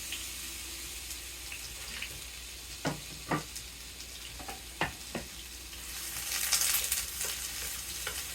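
Spiced pork and apples cooking in a skillet, a soft steady sizzle broken by a few sharp stirring scrapes and clinks, with a brief rush of louder hiss near the end.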